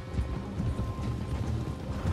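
Horse hooves clip-clopping in Red Dead Redemption 2, a steady, close, fairly loud rhythmic trot of several hoofbeats with faint creaks and game ambience, no voices.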